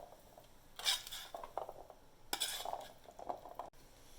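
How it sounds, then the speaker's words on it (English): Chickpeas being stirred into Israeli couscous in a pan, heard as a few scraping, clinking utensil strokes against the pan, with short bursts separated by quieter gaps. "we're just gonna carefully mix them around so they're incorporated"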